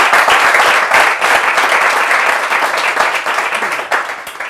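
Audience applause in an indoor gathering, a dense burst of many hands clapping at full strength, then gradually thinning and softening over about four seconds.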